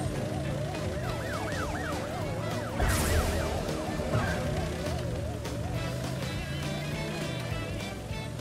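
Wailing police car siren from the Crash Bandicoot racing game, a loud, steady warble that runs the whole time over game music and engine noise.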